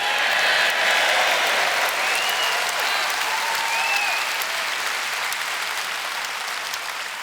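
Sustained audience applause fills a hall at the Reform UK 2024 national political conference, a dense even wash of clapping with a few whistles, steady throughout and tapering only slightly at the end.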